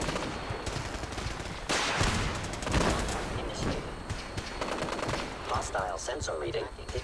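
Rapid gunfire in Fallout 4 aimed at a sensor, dense volleys of shots rattling loudly for several seconds amid game noise.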